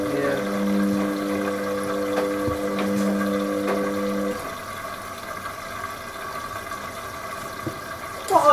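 An Indesit W161 washing machine on its first rinse of a Cottons 40 cycle gives a steady pump hum with swishing water. The hum stops partway through, leaving quieter water movement, with faint talk in the room.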